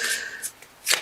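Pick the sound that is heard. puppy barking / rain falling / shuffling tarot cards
shuffling tarot cards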